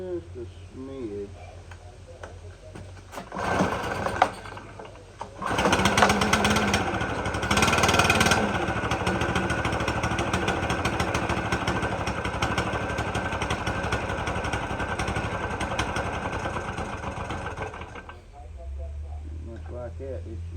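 A Stihl BR600 backpack blower's two-stroke engine runs after its carburetor is adjusted, a loud, buzzy, steady drone that rises sharply when revved and then drops back, with a voice talking near the start and end.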